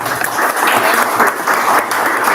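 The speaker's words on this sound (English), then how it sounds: "we give them a round of applause" Round of applause for two women at a teachers' science training closing ceremony in Lira City, a lively crowd clapping steadily with brief swells.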